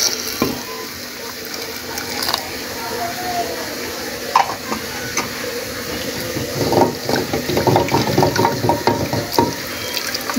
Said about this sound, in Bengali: পানি দিয়ে দিব, ফুটানো পানি